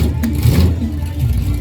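Car engine at a car show with its exhaust removed, a loud, raw, continuous rumble that swells briefly in a rev, with crowd noise around it.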